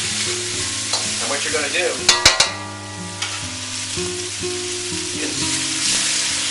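Green onions and bean sprouts hit a hot pan and are stir-fried, a loud steady sizzle with a burst of clanks and scrapes near the middle, while someone talks briefly over it.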